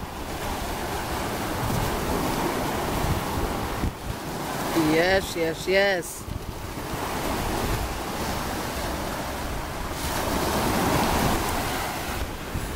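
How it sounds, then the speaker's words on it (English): Ocean waves wash onto a beach in a continuous roar, with wind buffeting the microphone, and a voice speaks briefly over the surf partway through. "I'm just listening to the waves."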